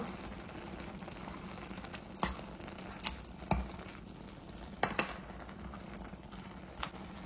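Kashi halwa is stirred in a pan over a soft, steady sizzle, with a few scattered scrapes and knocks of the spoon against the pan.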